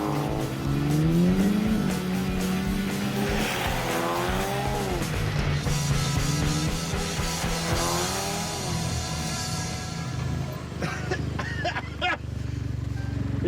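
A rally car powers along the forest stage at Owen Forest, a British GB Rally Championship track, its engine revving and dropping through gear changes in a continuous loud roar with gravelly road noise.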